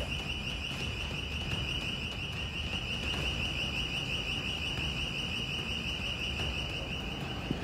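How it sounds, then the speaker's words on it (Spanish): A security alarm at a cell phone store in Miraflores rings continuously, a steady piercing tone with no pauses, heard alone at a moderate distance without any talking. "Esta es la alarma que, de hecho, pues pone también en alerta al personal de seguridad de la propia tienda"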